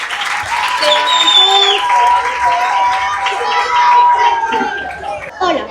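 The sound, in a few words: applause for children presenting at a science fair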